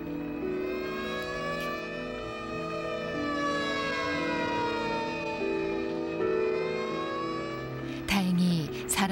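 A fire engine's siren wails steadily in a quiet residential street, its rising and falling tones sustained throughout at moderate distance, with a brief clatter near the end.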